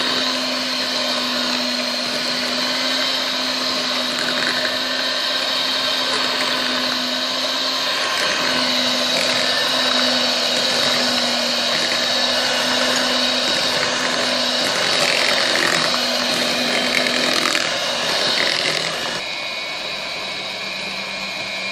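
An electric mixer whirs steadily through cake batter for gâteau les roches, a loud, close, continuous motor drone that drops in pitch near the end.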